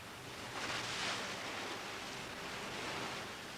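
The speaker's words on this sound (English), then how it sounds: "The blades in the bottom of the tank make the water turn round and round." A steady, dense rushing of water churned by blades in a paper-pulping tank, close and continuous, with no voices.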